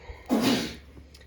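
A single short, breathy sneeze bursts out close by, followed by a brief quiet tail.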